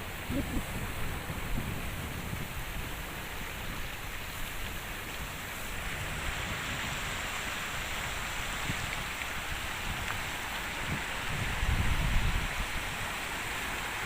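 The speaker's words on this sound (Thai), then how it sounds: "เริ่มมาเป็นคลื่นเป็นคลื่นเลยครับ คลื่นก็เริ่มมาทีๆลงก็แรงขึ้นแรงขึ้น" Sea waves wash in behind the Esso oil refinery, a continuous broad rushing hiss of surf with a stronger surge of water building near the end.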